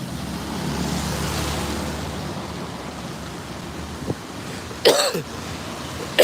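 Two short coughs break through near the end over a steady background rumble, like road noise.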